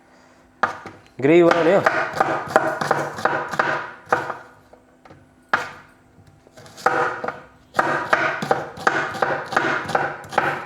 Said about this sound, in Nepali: प्याज सर्र काट्छु यसरी। ल यस्तो प्याज यस्तो फास्ट काट्छु मैले।